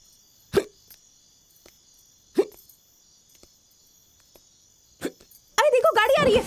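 Hiccups in a film scene come as three sharp, isolated bursts a couple of seconds apart over quiet background insects, followed by a voice speaking.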